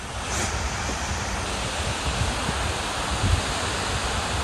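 Strong wind buffets outdoors at Albion Falls in Canada, a loud, steady broadband roar that fills the whole stretch without letup, near and continuous with occasional heavier gusts.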